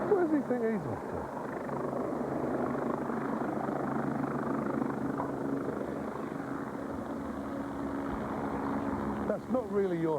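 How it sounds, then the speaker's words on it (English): A helicopter flies over a garden in Longney, its rotor and engine drone holding steady and fairly loud for the whole stretch, with a slight rise and fall toward the end. "That's not really your helicopter."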